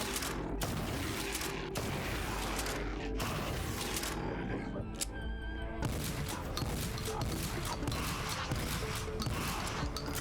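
Explosive blasts and heavy weapon fire from the retro shooter Project Warlock pound continuously, dense and loud, with sharp booming hits recurring throughout amid game music.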